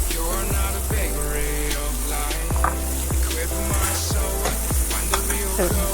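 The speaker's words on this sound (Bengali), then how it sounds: "আমি ওই তেলের মধ্যে আমি পেঁয়াজ কুচি দিয়ে দেবো" Chopped onion sizzles in hot oil in a pan, a dense continuous frying hiss with a low hum and repeated soft scraping strokes throughout.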